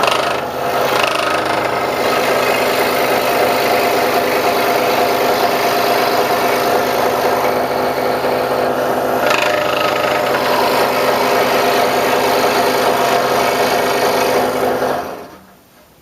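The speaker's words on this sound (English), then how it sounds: "back up with the scroll saw running, and then proceed to cut" A scroll saw runs steadily through wood while cutting a candle holder, a loud, continuous buzzing rasp up close that holds for several seconds before cutting off abruptly near the end.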